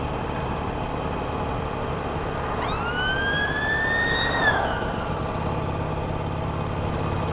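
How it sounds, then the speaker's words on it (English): An ambulance siren wails past in traffic, a single rising and falling tone sweeping clearly over a steady road and engine rumble, heard from inside a vehicle. "There's an ambulance coming."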